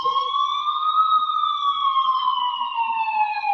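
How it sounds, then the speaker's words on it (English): A single distant siren wails with a slow rising and falling tone, steady and clear, with no other sounds around it. "I finally heard sirens in the distance"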